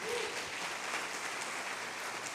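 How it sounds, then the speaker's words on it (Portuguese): Church congregation applauding during a worship service, a steady, dense wash of clapping that holds evenly throughout at moderate volume, with a voice briefly audible over it near the start. "Você pode aplaudir o Senhor Jesus bem forte?"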